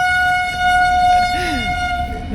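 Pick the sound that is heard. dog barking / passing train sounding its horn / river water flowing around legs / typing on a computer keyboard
passing train sounding its horn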